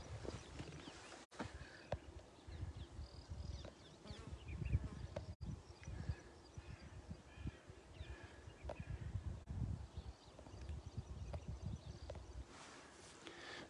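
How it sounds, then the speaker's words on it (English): Faint, steady buzzing of bees around blooming yellow flowers beside an outdoor path, a soft hum with rustling and occasional knocks, quiet and continuous with no talking. "And they're filled with bees."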